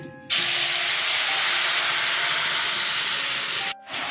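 Ginger, chilli and tomato paste hit hot oil in a pan with a sudden loud, close hissing sizzle that holds steady for several seconds, then briefly drops away near the end.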